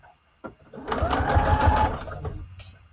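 A sewing machine stitches a long zigzag stitch on a junk journal tag, a fast rhythmic mechanical chatter running for about a second and a half after a soft knock, close up.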